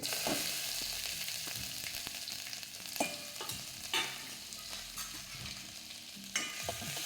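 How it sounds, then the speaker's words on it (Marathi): Mustard seeds, cumin and crushed green chilli crackle and sizzle in hot oil for a tempering, a dense steady frying hiss with sharp pops and a few louder spits, close up with no voices. "याच्यामध्ये मी मोरी घालून घेते मोरी छान तडतडू जायची आपल्याला"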